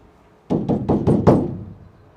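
Five quick, close knocks on a sound-deadened metal panel of a Sprinter van under conversion, each a dull, damped thud with short decay, fairly loud and alone.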